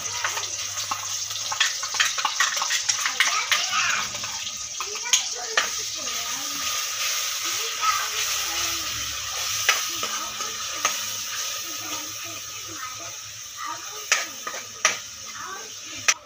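Spice paste is stirred into hot oil with cumin for an aloo matar gravy, giving a continuous bright sizzle broken by stirring scrapes and small clicks, with a voice speaking over the frying.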